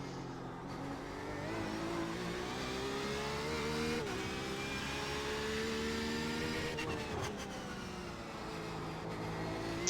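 A Porsche 911 RSR race car screams around the Belle Isle street circuit in Detroit, its engine note climbing and dropping through gear changes in a loud, continuous onboard roar lasting the whole stretch.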